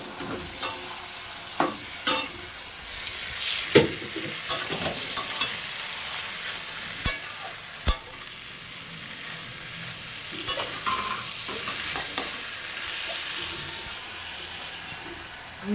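Prawns with mustard and chili paste fry in a pan with a soft, steady sizzle, broken by scattered sharp pops and spoon clicks, close by and with no talking.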